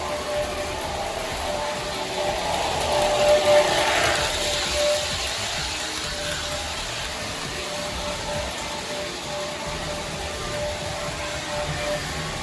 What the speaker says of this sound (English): Very cool sounding train.